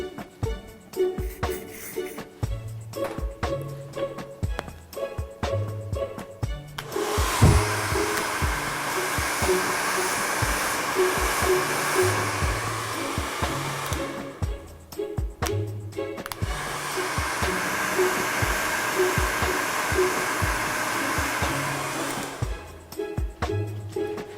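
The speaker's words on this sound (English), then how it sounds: "then you're going to blow dry that in on hot, then you're going to change the blow dry button and put it in on cold" A hair dryer blows on hair in two long bursts of steady whooshing motor noise, close and loud, with quieter pauses between them when it switches off.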